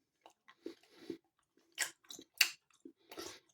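Someone is chewing the hard toffee of a Cadbury Curly Wurly up close, with sticky crunches and smacks in an irregular rhythm and short quiet gaps between bites.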